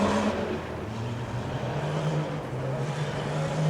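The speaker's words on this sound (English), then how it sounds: "Dave Tucker, a little bit of trouble in that final slalom turn, but gathers it up, going through the mud pit." A demolition derby car at Cottage Grove Speedway crawls through a mud pit, its engine droning steadily at low revs with slight pitch shifts, loud and fairly close, with no talking.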